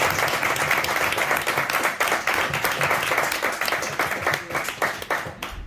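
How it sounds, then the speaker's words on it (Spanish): Audience applause at a comic book presentation for a Spanish Son Goku edition, a steady wash of many hands clapping at moderate distance, sustained evenly throughout. "Antes un aplauso para Jordi, Miquel y Pedro."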